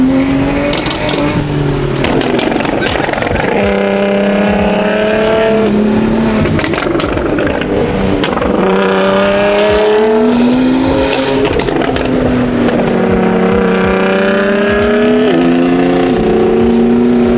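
A Dodge Hellcat's engine rumbles and revs repeatedly on a busy main street during Monterey Car Week, loud and close, with rising and falling pitch sweeps mixed with other passing car engines.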